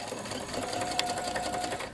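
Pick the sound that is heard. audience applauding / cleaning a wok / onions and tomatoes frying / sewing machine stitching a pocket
sewing machine stitching a pocket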